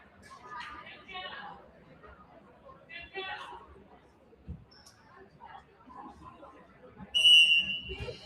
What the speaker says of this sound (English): Here's the whistle we're waiting on.